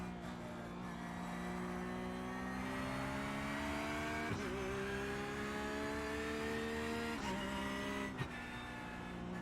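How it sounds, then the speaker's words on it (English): An LMP2 prototype race car in a racing video game at Watkins Glen drones with a steady, rising engine note, broken by two quick gear shifts, loud and continuous with no talk. "I hear an LMP2."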